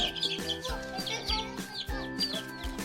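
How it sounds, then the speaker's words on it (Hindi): Hen and chicks cluck in a garden with repeated close clucks and soft peeps, a rooster-like call mixed in, with faint background noise throughout. "हम अपने यहाँ पे मुर्गी के बच्चे पकड़ रहे हैं"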